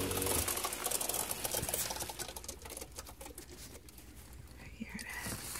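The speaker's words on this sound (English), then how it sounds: "Water spraying underneath here." Water sprays from a leaking plumbing pipe under a truck fitted out as a mobile nail salon, a continuous close hiss and patter that loosens slightly partway through, with no talk over it.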